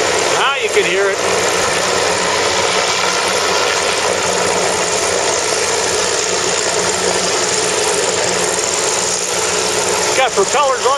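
A Goodyear blimp's steady droning engine with whirring side propeller hum runs continuously, loud and close, with faint voices briefly at the start and end.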